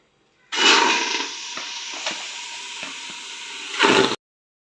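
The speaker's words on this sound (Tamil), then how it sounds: "இப்போ நம்ம மட்டன் வந்து வேக வைக்க போகிறோம்." Mutton cooking in a pot for biryani gives off a steady, loud sizzling hiss with a few soft clinks of a utensil, ending abruptly.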